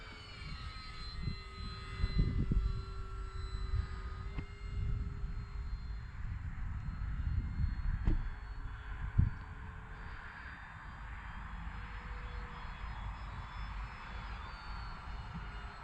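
Radio-controlled P-47 Thunderbolt model airplane flying overhead, a steady distant engine drone that swells and fades gently as it passes, with a few faint clicks and no talking.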